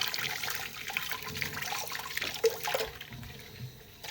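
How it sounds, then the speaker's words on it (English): Running water pours steadily as a scrubbing brush, dirty with burnt residue from a stainless steel pot, is rinsed out, with a continuous splashing, trickling wash and a brief clunk partway through. "Rinse out the brush"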